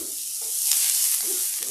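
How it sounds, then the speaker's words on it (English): Hissing sizzle of food frying in a hot pan, close up, with brief stirring scrapes and no talking. "Get a little sizzle"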